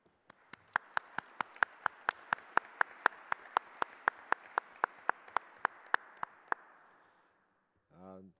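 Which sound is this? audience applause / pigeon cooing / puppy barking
audience applause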